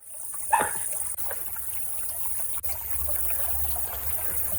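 Recorded babbling brook in a nature sound effect, a steady soft trickle and flow of water, with a brief sharper splash or knock near the start and no talk.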